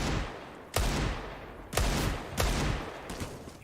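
Desert Eagle pistol fire in a Counter-Strike pro match, three or four loud, booming shots spaced about a second apart, each followed by a long reverberant decay over constant crowd and game noise.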